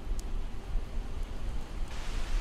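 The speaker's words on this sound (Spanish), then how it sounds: "Ya está lloviendo otra vez, ¿cómo no?" Steady rain patters down in a continuous wash of soft hiss, moderately loud, with no voices, in the video game Project Zomboid.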